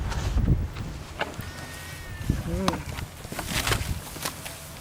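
Baby sheep on a farm give a brief, thin bleat midway, faint against an outdoor background with footsteps and small rustles; a person speaks at times.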